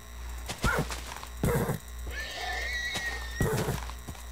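Minecraft horse whinnies rise and fall clearly, with hollow clip-clop hoof thuds landing in short bursts around them; no one talks over the game sounds.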